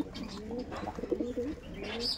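Andhra pigeons coo repeatedly in a series of low, throaty phrases that stay close and steady and fill the whole stretch without a pause.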